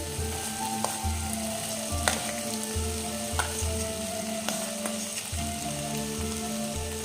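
Leftover cooked rice sizzles steadily in a hot pan of oil for homemade chicken rice, with continuous frying crackle and intermittent scraping stirs, close and fairly loud with no talking.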